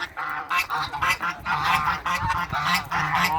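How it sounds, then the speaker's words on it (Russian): Domestic geese honk repeatedly in a cold, damp yard, a close, loud flurry of overlapping calls in quick irregular bursts. "мои гуси вышли"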